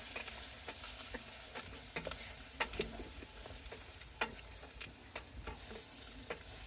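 Onions and vegetables in a lidded pot on a camp stove inside a hot tent sizzle and bubble softly, with faint scattered ticks and pops, quiet and continuous.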